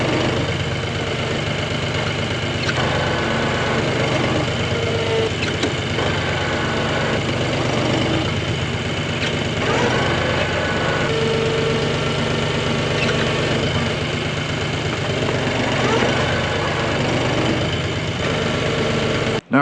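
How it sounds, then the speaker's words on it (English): Parked farm tractor idling close by, a loud, steady low rumble with a constant mechanical drone and no change in pace throughout. "we have the tractor parked"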